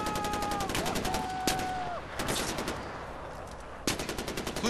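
Gunfire in the video game Far Cry 4: bursts of automatic shots and single cracks ring out loudly, with whistling tones and a few sharp blasts layered through the mix.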